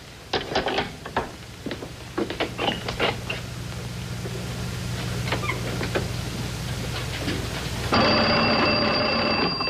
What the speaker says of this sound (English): Ring this phone as if there were a call coming in from the outside.